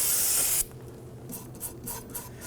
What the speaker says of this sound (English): Using some spray solvent and a bristle brush,